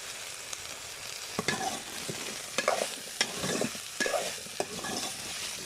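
Lightly crushed whole cumin and salt frying in a pan while being stirred, a low sizzle broken by repeated scraping and clinking strokes of a spoon against the pan.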